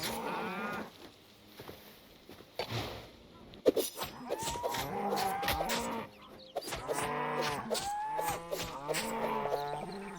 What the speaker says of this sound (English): There's a lot of cows around here.